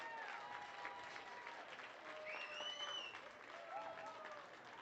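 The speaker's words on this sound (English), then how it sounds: "Let's give them a big round of applause." Sustained applause and cheering from the crowd at an Elbert County Fair market hog show, steady and fairly distant throughout, with a few whistles rising above the clapping.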